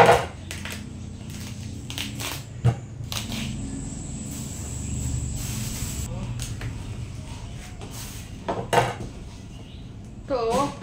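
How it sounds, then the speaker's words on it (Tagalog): A banana blossom is sliced and peeled in a home kitchen, giving scattered knife taps, crisp tearing and clinks of utensils against a board and dishes. Someone talks over the work at intervals. "Gagayatin natin ang puso. Puso ng saging. Tapos ating igigisa ko. Ating tatalupan muna."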